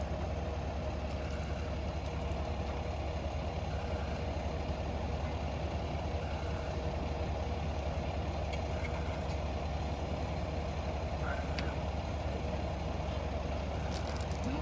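Boat engines idle in a steady low rumble, constant and moderately close, with no other sounds standing out.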